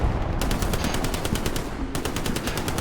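Rapid automatic gunfire in the World War II shooter Hell Let Loose, a fast, loud, evenly spaced burst of shots with a brief pause before firing resumes.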